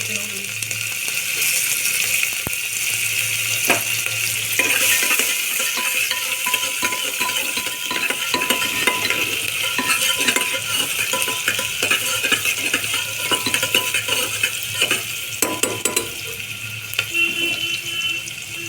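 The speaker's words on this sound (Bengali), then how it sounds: "এই কুকারে তেল দিয়েছি তেলটা হয়ে গেছে পেঁয়াজ" Onions fry in oil in a pressure cooker while a metal spoon stirs them, making irregular clinks and scrapes over a steady hiss at close range.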